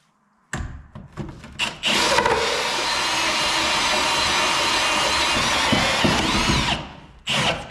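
A power drill bites into wood during plumbing work on a house build, with a few short bursts, then runs steadily for about five seconds before stopping and starting again briefly.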